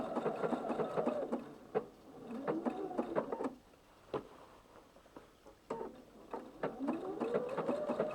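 A sewing machine stitching diagonally across a quilt, running in quick rhythmic bursts of needle clatter with a brief pause in the middle before resuming, close and fairly quiet.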